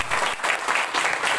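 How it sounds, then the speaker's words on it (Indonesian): Congregation applause in a church during an evangelistic revival service, a steady burst of dense clapping from many hands filling the room, fairly loud and continuous with no talk over it. "Mari kita beri tepuk tangan terbaik buat Tuhan."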